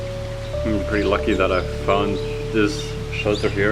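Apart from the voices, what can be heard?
heavy rain falling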